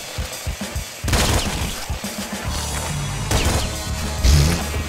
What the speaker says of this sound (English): I missed with a shotgun.